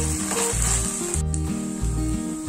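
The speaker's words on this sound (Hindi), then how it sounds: "अदरक लहसुन का पेस्ट भी डालेंगे और इसे सॉटे करेंगे" Onion and ginger-garlic paste sauté in a pan for stuffed capsicum, giving a steady, close sizzle that runs throughout with no talking, over a low tonal background.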